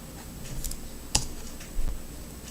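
A few sparse key clicks are tapped on a computer keyboard, with one sharper click near the middle and a short burst toward the end, quiet and close with no speech.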